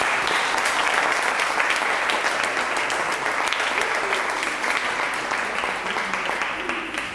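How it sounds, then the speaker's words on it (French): Loud, sustained clapping fills a hall at a French summer workshop event, a thick, even wash of many hands that holds for several seconds and tapers slightly toward the end. "Je voudrais que vous l'applaudissiez très fort."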